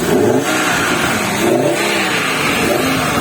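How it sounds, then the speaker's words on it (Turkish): Close up at the air filter, a Fiat Tipo 2.4 20V engine revs repeatedly, its intake giving a deep, throaty roar that swells and eases in a few loud throttle pulses. "Hava filtresinden çok güzel ses çıkıyor."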